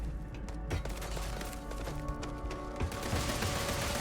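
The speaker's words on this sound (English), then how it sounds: "they're shooting at me from the ship?" Gunfire from a ship during a Starfield combat encounter, a dense run of overlapping shots and impacts that stays loud and continuous over a busy game soundscape for about four seconds.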